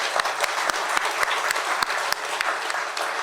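An audience at a spiritual talk on Shirdi Sai Baba applauds, a lively patter of many hands with distinct sharp claps standing out, continuous for a few seconds.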